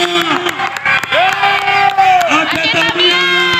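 A stadium crowd at a women's bicycle race, the Pra-PORA III 2021 event at Stadion Harapan Bangsa, cheers and shouts loudly and close. Voices whoop over scattered applause for a few seconds.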